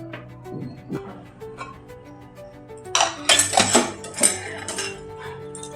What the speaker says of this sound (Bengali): গ্যাসটা ধরিয়ে নিলাম এবার আমি প্রেশার কুকারটা বসিয়ে দিলাম